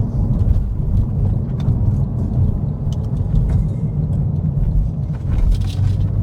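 A 2008 Porsche 911 Carrera's flat-six engine drones loud and low from inside the cabin while driving, a steady rumble with slight surges and no talking.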